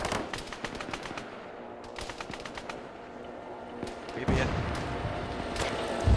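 Arma 3 game combat with rapid bursts of automatic gunfire and single shots, some close and sharp and others more distant, then a heavier blast, with a brief voice over the shooting.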